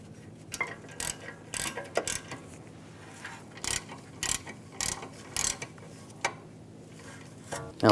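A ratchet threads in the caliper bracket bolts on the rear brakes of a 2009-2013 BMW 328i xDrive, making close, quick bursts of metallic clicking that repeat in short runs with pauses between, with no talking.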